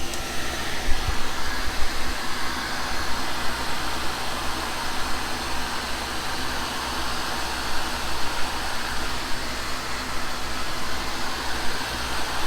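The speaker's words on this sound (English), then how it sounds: "Vacuum." A workshop vacuum runs steadily during tool making of brazed carbide angle cutting bars, a loud, even broadband whoosh that holds without a break, with a faint low hum under it and no talking.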